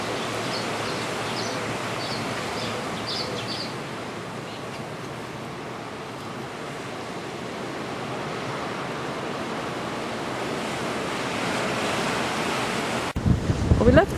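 Wind blowing steadily across the coast near a lighthouse on a cloudy day, a continuous broadband rush with faint distant surf beneath it, ending in a brief burst of louder gusting against the microphone.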